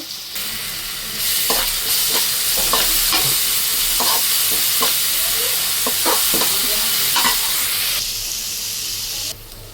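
Ingredients with freshly ground ginger paste frying for a green chilli chicken curry, loud continuous sizzle with repeated sharp spoon scrapes against the pan, steady and close.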